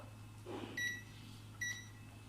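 Two short electronic beeps from an oven's control panel as buttons are pressed while baking pizza, faint and spaced under a steady low appliance hum.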